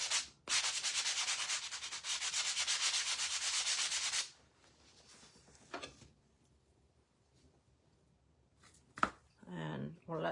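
A painted shelf sitter is sanded by hand in one steady, raspy scrubbing stretch lasting a few seconds, close up, followed by quieter handling noises and someone talking.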